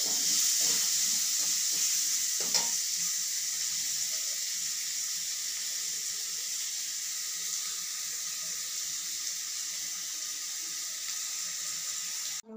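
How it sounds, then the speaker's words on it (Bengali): Potatoes fry in hot oil in a pan, producing a steady, close, bright sizzling hiss for about twelve seconds with no voices. "তেলে আমি আলুগুলো ভেজে নেব।"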